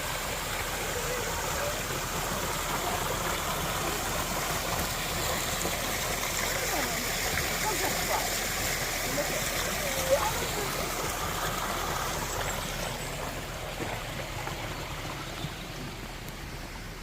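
Water flows steadily at a lavandeira, a stone washing place along the Portuguese Coastal Camino, a continuous broadband rush that stays even and fairly close throughout, with faint outdoor background and no clear talk.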